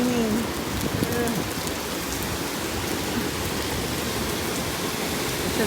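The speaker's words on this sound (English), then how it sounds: "It's raining." Heavy rain pours down in Miami, a dense, even hiss of drops striking surfaces that stays loud and constant throughout, with a faint voice near the start.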